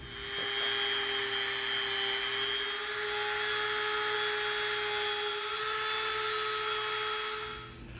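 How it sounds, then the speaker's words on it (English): A Dremel rotary tool fitted with a round bit cuts a trench into EVA foam, a steady high-pitched motor whine with a faint grinding texture that runs close and loud throughout before easing off at the end. "we're going to come in with our Dremel and we're going to Dremel out a trench"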